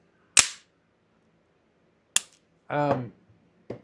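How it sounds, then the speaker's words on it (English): An unloaded handgun with no magazine has its slide pulled back and locked open, producing sharp metallic clicks and a short rattling ratchet sound, isolated in a quiet room. "if I can get the slide to stay back, there we go"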